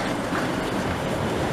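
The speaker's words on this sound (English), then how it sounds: "time to get a train to Glasgow" Interior of a Virgin Trains carriage travelling to Glasgow, a dense continuous rumble and rail roar filling the cabin, loud and close with no talk.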